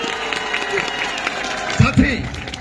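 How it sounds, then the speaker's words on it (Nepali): Applause from a crowd for the sniper battalion at an Indian Army paltan celebration musical night, a steady clapping wash with a loud voice over it and a few heavier thumps near the end. "जोरदार ताली स्नाइपर बटालियनको लागि"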